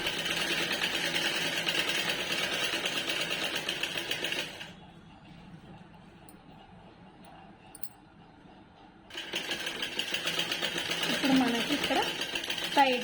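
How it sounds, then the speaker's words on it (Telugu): A sewing machine stitches piping onto a prince-cut blouse in a steady, fast whirring run, stops for a few seconds, then starts again, close and fairly loud with a voice talking faintly over it. "మధ్యలో దీని పైనుంచి ఒక కుట్టు వేసుకుంటాను"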